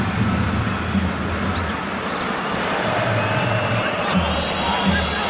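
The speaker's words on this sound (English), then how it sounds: "Another fantastic crowd here today" A large stadium crowd at a Barcelona versus Bayern Munich women's Champions League football match roars in a steady, dense wash of cheering and noise, loud and continuous without letting up.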